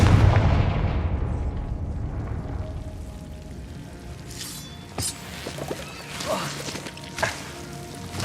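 Confringo fire spell blast in Hogwarts Legacy: a heavy booming impact that rolls away, followed by several sharper cracks and smaller hits in the game's action.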